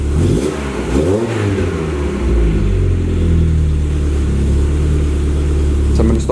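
A Mk1 Citi Golf engine runs close by. It revs up once sharply, then settles into a steady, rumbling idle.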